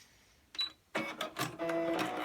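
A sewing machine stitches back over a plastic strap tab on a fabric mask, giving a short, quiet burst of rapid mechanical clatter after a few soft clicks.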